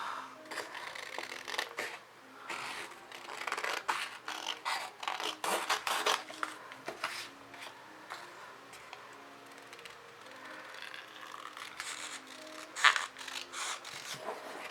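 Crisp snipping and rustling of scissors cutting paper or fabric, in irregular bursts close by, with no talking.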